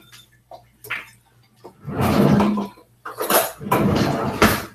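A spatula is rinsed under running tap water, with a short gush of water, a pause, then more splashing and rushing flow mixed with light clatter of utensils in a sink, close by and fairly loud.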